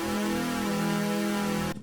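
Unfiltered patch in the Zebra synth built from two oscillators and noise, a bright, buzzy sustained tone with hiss, steady for under two seconds before cutting off, no voices.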